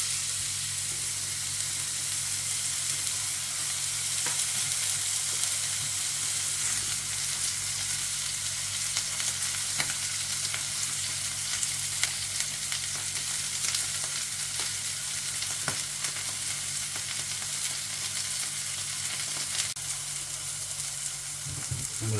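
A budget beef steak frying in a pan gives off a steady, dense sizzle that holds for the whole stretch, with scattered small pops and crackles and no talking.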